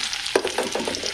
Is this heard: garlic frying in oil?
yes